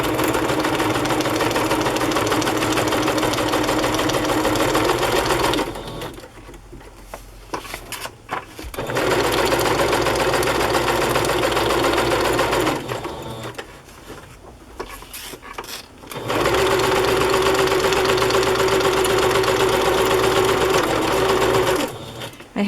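A sewing machine runs in three long bursts stitching a double row along a sheet of acetate, its steady motor whir close and loud, separated by brief quieter pauses.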